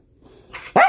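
A puppy gives one sharp, loud bark right at the end, after a faint, quiet stretch of soft indoor noise.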